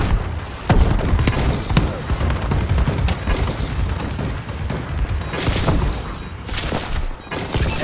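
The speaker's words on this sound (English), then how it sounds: "Friendly bombing run clearing the way." A friendly bombing run in a shooter video game produces a dense, continuous barrage of close explosions and rapid gunfire, loud throughout with sharp cracks punctuating a rumbling roar.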